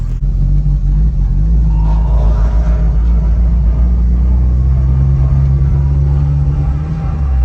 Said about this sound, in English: So let's start driving.